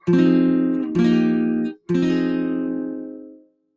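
Three guitar chords strummed one after another, each ringing out clearly, the last left to sustain and fade; no voices.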